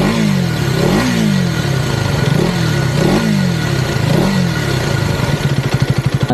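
A 2025 KTM Duke 250 motorcycle engine revs loudly several times in a row, each rise and fall close by, then settles into a fast, throbbing idle.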